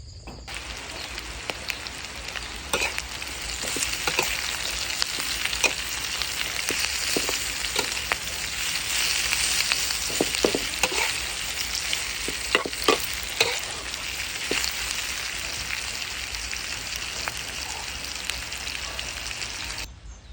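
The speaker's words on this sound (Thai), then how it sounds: "น้ำห่อนแล้วนะครับน้ำเดือดแล้ว" Water boiling for Thai tom khlong soup with giant catfish bubbles and hisses in a continuous, close rush, with scattered pops and clinks rising above the steady seething.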